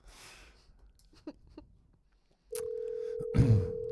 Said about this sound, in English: every time the phone rings like this and they pick up live